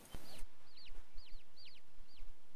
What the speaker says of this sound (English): It's a diseased hen.